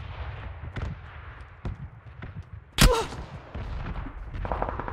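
PUBG gunfire: one sharp, loud shot stands out midway, with fainter scattered distant cracks before and after over a low background rumble.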